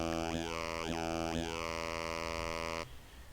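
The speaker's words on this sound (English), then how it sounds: "So there's that kind of vocal sound coming through." Sustained buzzy Serum synthesizer tone through a vocal formant filter, with a vowel-like, talking quality; its pitch swoops downward three times before it cuts off, leaving faint noise.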